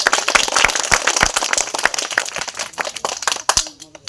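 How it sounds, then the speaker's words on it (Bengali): Children clap their hands at a charity gathering in Kharagpur, a loose burst of sharp, uneven claps near the microphone that thins out and trails off toward the end. "হাততালি দাও"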